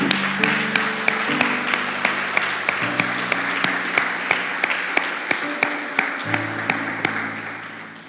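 A church congregation claps in a steady, regular rhythm in time with sustained keyboard chords, the evenly spaced beats continuing throughout and fading slightly at the end.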